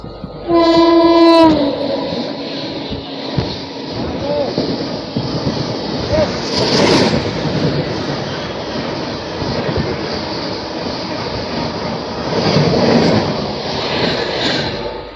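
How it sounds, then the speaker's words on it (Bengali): The 12269 Duronto Express, running from Chennai to New Delhi, blasts a loud horn and then thunders past close by with a long, steady rumble and clatter of wheels. "চলো এবার সামনে থেকে আসছে 12269 দুরন্ত এক্সপ্রেস, যেটা চলে যাবে চেন্নাই থেকে নিউ দিল্লি"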